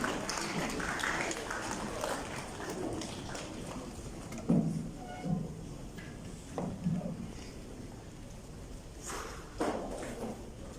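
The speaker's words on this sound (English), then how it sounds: "Please, let's put our hands together as we welcome Mr. Governor to please address this occasion." An audience clapping to welcome the governor at a Lagos State security event, steady applause throughout with scattered louder claps and crowd noise.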